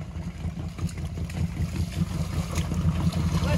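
A 4x4 vehicle pushes through swamp water, giving a low pulsing engine chug mixed with splashing and sloshing, fairly close and moderately loud with no talk.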